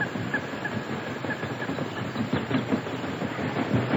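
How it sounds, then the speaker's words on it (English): Faint, distant churning of a steamboat paddle wheel coming around a river point, a soft rhythmic rumbling wash with a few thin whistle-like tones above it, steady and low with no talk. "Ain't nothing but the flood of a steamboat's wheel away down come around the point"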